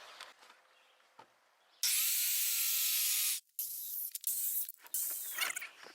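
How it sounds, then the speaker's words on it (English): A circular saw rips straight cuts through rough-cut barn siding boards, a loud sustained whine of roughly a second and a half, followed by shorter bursts of cutting and handling clatter. "I'm just going to cut these straight lines up to the corner with a circular saw"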